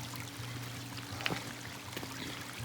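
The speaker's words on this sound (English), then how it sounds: "The trails felt less like a trail and more like a washed out creek bed, having to maneuver all this running water" Running water flowing over rocks in a washed-out creek bed along a mountain trail, a steady soft gurgling rush with a few small splashes, fairly faint and continuous.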